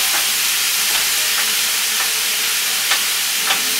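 Ground meat browning in a pan, hissing with a loud, steady sizzle while a flat wooden spatula breaks it up, adding periodic soft scraping strokes close by.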